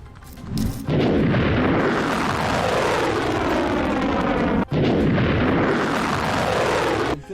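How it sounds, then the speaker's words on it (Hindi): A long, loud roaring rumble of a Houthi ballistic missile being intercepted over Tel Aviv, like a distant blast echoing through the sky, with a sharp crack partway through before the roar continues. "सायरन और धमाके की आवाज सुनी गई।"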